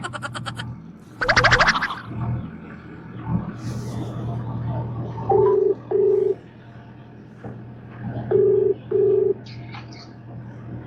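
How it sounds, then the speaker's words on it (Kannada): A phone number is dialed: two pairs of short, crisp keypad beeps sound close and clear, following a stretch with brief talk and bird calls in the background. "ಫೋನ್ ಹಚ್ಚೇ ಬಿಡೋಣ"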